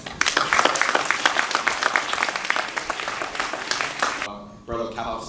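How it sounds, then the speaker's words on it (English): An audience applauds at a Kappa League gala, with dense clapping that fills the room for several seconds before fading, and a voice begins speaking just as it dies away. "Give the young men a round of applause."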